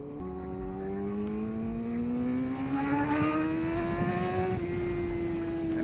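A 2012 Suzuki GSX-R750 motorcycle engine climbs steadily in pitch under load, a loud, sustained rising whine close by with a brief shift near the end, no voices.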